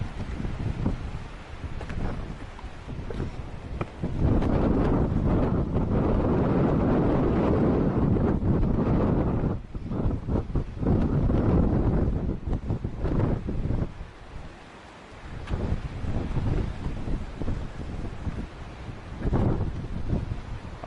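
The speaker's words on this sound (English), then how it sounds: "Pretty sure the wind is way too strong for you to hear anything I'm saying right now" Strong wind buffeting a microphone at a seaside fort, loud low rumbling gusts that rise and fall in long surges with brief lulls between them.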